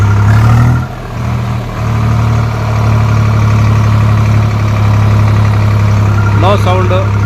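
Swaraj 735 FE tractor engine running steadily in first gear, a loud continuous low diesel drone that dips briefly near the start, with faint whirring transmission tones and a short squeal near the end.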